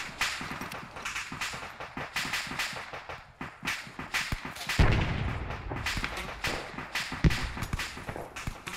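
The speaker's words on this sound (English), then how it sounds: "now I'm being shot at" Gunfire in the military shooter game ArmA 3: a rapid run of sharp cracks and shots, some distant and some close, with one heavy nearby blast midway.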